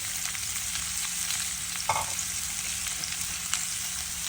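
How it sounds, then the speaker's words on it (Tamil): Onions sautéing in oil for a fenugreek seed curry give a steady, close broadband sizzle throughout, with a brief stir scrape near the middle and another soft knock later, no voices. "இப்போ வெங்காயத்தை போட்டு வதக்குவோம்."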